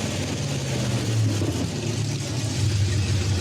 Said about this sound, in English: the engine sounded great